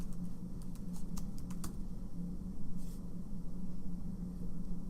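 Typing on a computer keyboard to enter rubric comments, a quick burst of light key clicks early on with one more tap later, over a steady low background hum.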